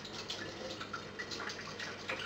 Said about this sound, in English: So I'm just going to put some hot water in here.